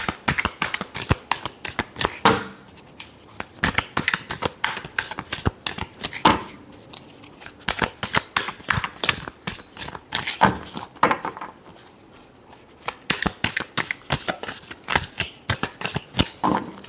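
A deck of tarot cards is shuffled close by in repeated rapid riffling bursts, flurries of crisp slaps separated by brief pauses, with no voices.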